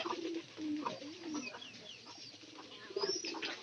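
Domestic pigeons kept by a pigeon fancier coo softly in low, repeated rolling notes. Higher chirps and faint background noise mix in, and the whole scene is quiet and somewhat distant.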